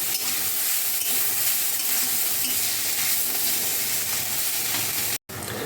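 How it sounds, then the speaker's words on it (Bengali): Rohu fish with radish greens and green chillies stirred and fried in a pan: a loud, continuous sizzle with scraping stir strokes, broken by a brief silent cut near the end. "ভালো করে নেড়ে চেড়ে আবার একটু ভেজে নেব।"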